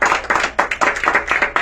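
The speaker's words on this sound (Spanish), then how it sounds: "Un aplauso a Dios, hermano." Church congregation clapping in a quick, fairly regular rhythm, sharp close hand claps repeating at a steady pace for under two seconds.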